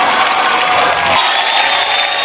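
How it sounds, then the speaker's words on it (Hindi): A studio audience at a comedy show applauds and cheers loudly, dense continuous clapping with whoops throughout. "तालियां होनी चाहिए।"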